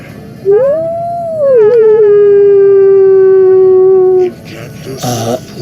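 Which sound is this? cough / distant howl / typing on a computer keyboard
distant howl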